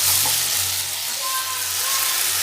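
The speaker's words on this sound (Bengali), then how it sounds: "মাছের রসা করার জন্য মশলাটা আমি কষিয়ে নিচ্ছি" Spice paste sizzles steadily in hot oil as it is sautéed for a Bengali fish curry, with the fish already fried. The frying stays close, even and continuous, over a low hum, and no one speaks.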